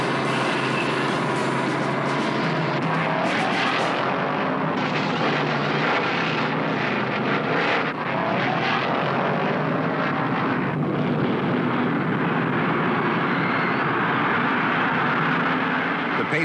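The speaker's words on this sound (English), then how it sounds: "Petty and Allison both scream into the pits to pick up enough fuel to make the final laps." NASCAR stock cars scream into the pits at Martinsville in 1972, a loud, dense, continuous engine roar with shifting pitch that runs the whole stretch and swells and dips as cars pass.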